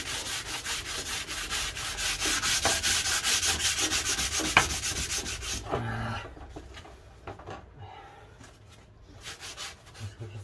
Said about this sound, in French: Et là, c'est du ponçage. Que du ponçage, jusqu'à ce que ça devienne lisse.